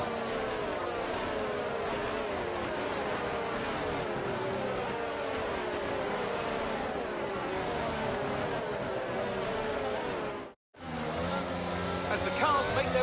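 Engines of F1 22 race cars on the formation lap under dry conditions, a steady layered drone of many cars humming and shifting pitch, with a commentator talking over it before a brief cut of silence.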